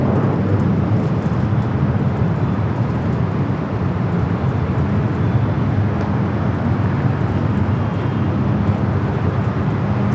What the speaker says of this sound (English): 17-year-old 747-400 freighter going to be taking off there on the south side.